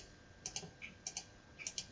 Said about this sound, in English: And then I just have to type in my coefficients.